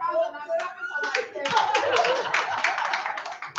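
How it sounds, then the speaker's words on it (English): Scattered audience clapping at a Rotary Club anniversary fellowship auction, starting in sparse bursts mixed with voices and building into fuller, brisk applause before trailing off. "Round of applause."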